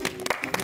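A studio audience and hosts break into applause on a variety show, a few sharp, uneven claps standing out loud and close over a busy, noisy background with voices mixed in.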